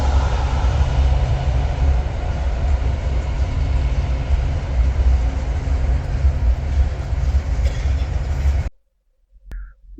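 A train rolls past the tracks beside a building in downtown Lakeland, Florida, a loud continuous rumble and rail clatter at close range for most of the moment before cutting off abruptly into near silence.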